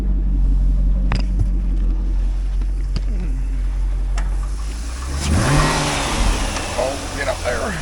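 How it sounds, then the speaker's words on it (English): A 2005 Chevrolet Corvette C6 with its LS2 V8 rumbles at a steady idle, then revs up loudly near the end with a rising, throaty sweep, heard close and with people talking over it. "Let's listen to that motor."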